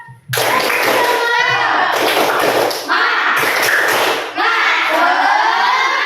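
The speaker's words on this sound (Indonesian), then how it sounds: "coba kita tepuk semangat" Elementary schoolchildren in a classroom at SD Negeri 3 Adisara perform a rhythmic spirit clap, loud, close bursts of clapping mixed with chanting young voices in several energetic phrases separated by short pauses.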